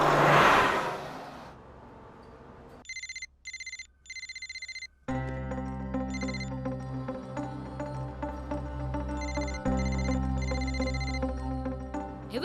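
A telephone ringtone rings unanswered in repeated electronic bursts, followed by a steady tonal ringtone melody that plays on without pause, with no voices.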